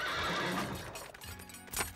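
Horses neigh loudly and close by with a sustained whinny, followed by quieter hoof clip-clops and a second brief whinny at the end.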